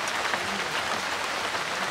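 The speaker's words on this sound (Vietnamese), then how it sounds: "Cũng mưa liên tục mấy bữa nay luôn." Steady rain falls continuously in the Mekong Delta countryside during days of stormy weather, a dense even hiss with no break and no voices.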